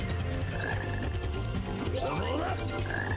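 A frog croaking in Sonic Heroes, a low, steady, repeating croak under rainy, busy game sound with chirpy tones sliding past, loud and close.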